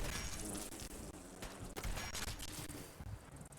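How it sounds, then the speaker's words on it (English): Gunfire in Fallout 4 amid a constant dense wash of loud combat noise, with sharp shot transients breaking through repeatedly over the din. "That was a lucky shot"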